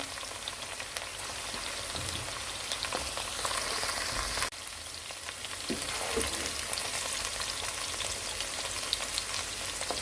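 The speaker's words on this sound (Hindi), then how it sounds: "अब हमने भिंडी को तकरीबन 5 मिनट्स के लिए ऑयल में स्टर फ्राई किया, मीडियम टू हाई फ्लेम पे।" Okra stir-frying in oil over a medium-high flame, a dense, even crackle like light rain with occasional soft clicks of a utensil, steady and close throughout with no voices.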